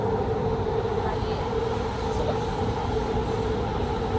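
Steady interior rumble of a metro train in Doha, Qatar, riding along with a continuous low drone and faint rail noise throughout, no clear voices.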